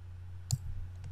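A single sharp computer mouse click sounds close and quiet against a low steady hum, followed by a fainter second tap.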